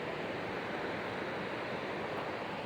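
A small waterfall near the High Falls walking bridge in Alabama gives off a soft, even rushing wash, fairly faint and unbroken, with no one speaking.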